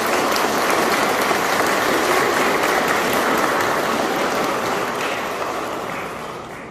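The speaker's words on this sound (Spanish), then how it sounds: "Un fuerte aplauso para Sebastián y Enedina." Guests at a traditional wedding mass in San Juan Mixtepec applaud the couple with a loud, continuous wash of clapping that slowly tapers off near the end.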